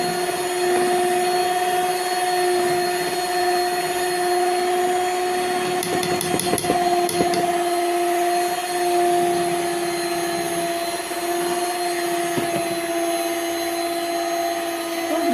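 An electric mixer beats white forest cake batter of eggs, milk, sugar, vanilla and flour, giving a steady, fairly loud motor whine with a few brief clattering knocks midway through, running unbroken for about fifteen seconds.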